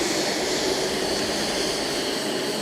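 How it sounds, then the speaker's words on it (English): A Boeing 787-10 jet at Fukuoka International Airport gives off a steady, loud, broadband engine roar that holds evenly throughout, with no talk over it. "Now here comes a 787-10"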